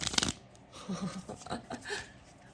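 Tarot cards are shuffled close by in a quick riffle, then a few softer slides and taps follow, quiet and intimate with a faint voice murmuring underneath.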